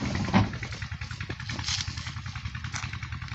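A motorcycle is ridden through desert sand dunes, its engine chugging in a steady, uneven rhythm close by, with clattering mechanical noise and a short louder burst near the start.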